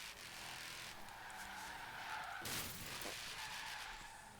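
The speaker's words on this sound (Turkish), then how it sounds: "Kış ayı olduğu için kayıyor" In the video game Forza Horizon, a car's tires skid and screech across a snowy, slippery surface beneath a steady engine roar, with a sharp sliding burst partway through.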